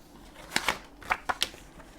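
Craft paper cut by hand for tiles, a few quick crisp snips and rustles in a short irregular cluster, close but quiet, with no talking.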